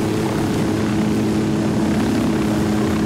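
A helicopter sets down in a military shooter game, its rotor and engine a steady, loud drone with a low pulsing throb that holds unchanged throughout, with no voices.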